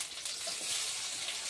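Chopped tomato hits hot oil in a pan for a Bengali curry, giving a soft, steady sizzle and crackle without speech.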